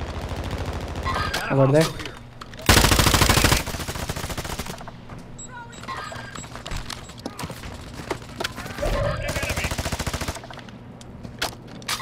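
Someone is shot at with automatic weapons: two loud, sustained bursts of rapid fire, one early and one late, with quieter stretches and people speaking in between.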